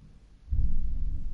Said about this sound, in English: Yeah, proper thunder here.